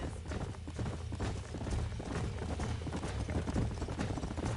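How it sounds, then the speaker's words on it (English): Horse hooves clip-clopping in the Red Dead Redemption video game, a dense, continuous patter of hoofbeats over a low rumbling game backdrop. "These are fine horses."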